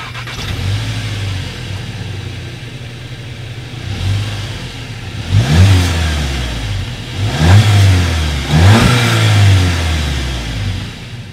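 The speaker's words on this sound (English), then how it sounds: "here is that exhaust clip" A 2019 Volkswagen Jetta GLI's exhaust idles with a low rumble, then revs hard three times in quick succession, each throaty roar rising and falling back to idle.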